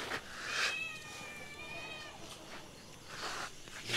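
A cat gives one drawn-out, wavering meow close by, standing out clearly against a soft, noisy background.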